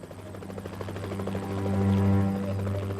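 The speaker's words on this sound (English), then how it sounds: "The police helicopter has been rushed out of the repair bay." A police helicopter flies with its rotor beating in a steady, rhythmic throb. The engine drone swells louder toward the middle as it passes nearby, with no voices over it.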